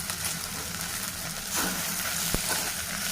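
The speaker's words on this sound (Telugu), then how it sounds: "ఎండుకారం కారం వేసాం ఇప్పుడు ఇది బాగా కలుపుకోవాలి" Okra and onion fry with dried red chilli powder being stirred in a pan, a steady close sizzle with soft scraping of the spoon and one sharp clink.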